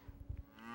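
Cattle lowing in a brief burst, a few low pulsing moos close together, fairly near and heard on their own.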